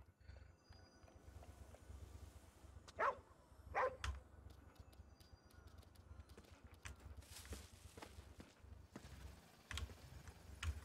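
A dog in a video game barks twice in quick succession, moderately loud over a steady low hum of game ambience, with a few faint clicks and thumps around it.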